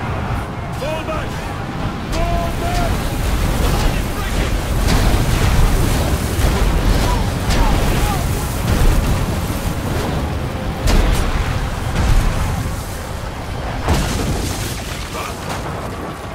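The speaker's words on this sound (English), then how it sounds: "Catapults! Fire!" Catapult fire and explosions in a Roman battle in Ryse: Son of Rome, rumbling booms and bursts rolling through a continuous roar of combat, loud and sustained, with shouted voices over the din.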